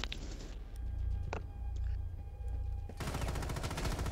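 Rapid bursts of gunfire in a Rainbow Six Siege ranked match crackle over a low rumble, with a few isolated shots before a dense, sustained volley of automatic fire at the end.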